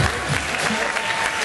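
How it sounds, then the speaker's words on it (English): Applause from an audience at a live event with fight results announced, dense steady clapping filling the whole moment with crowd murmur beneath. "You got applause one more time."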